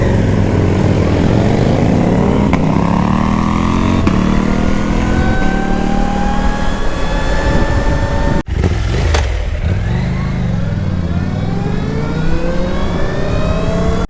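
A bigger motorcycle being ridden at speed, its loud engine droning near the mic with pitch rising and falling as the throttle changes, a brief sharp drop partway through and no talking.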